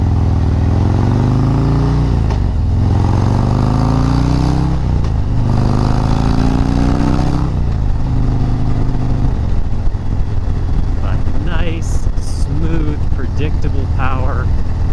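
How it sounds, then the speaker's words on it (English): A motorcycle fitted with a Fuel Moto 124 big bore kit, S&S 475 cam and S&S slip-on mufflers rides in fifth gear, its engine droning loud and steady with shifting pitch under wind, and a rider talks over it. "It's not an obnoxious motorcycle."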